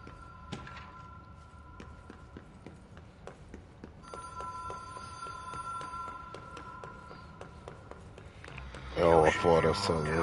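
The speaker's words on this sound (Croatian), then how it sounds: "Sve jači telefon." In the video game Control, a telephone rings repeatedly in a motel setting, with short bell bursts recurring at steady intervals beneath footsteps and low ambience, while people talk lightly before a louder voice cuts in at the end.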